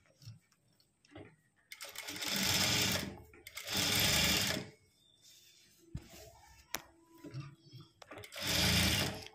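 A sewing machine stitches thread piping onto cloth in three sustained whirring bursts of rapid stitching, set apart by quiet pauses with faint handling clicks and the fabric being shifted.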